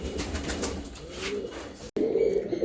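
Andhra pigeons coo at close range in a loft, soft low rolling calls repeating over a faint background, with a brief gap near the end before the cooing resumes.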